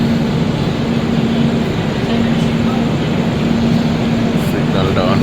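The Puri Garib Rath superfast express pulls out of Balasore station after a two-minute halt, a steady rolling rumble with a sustained droning tone heard from on board the train.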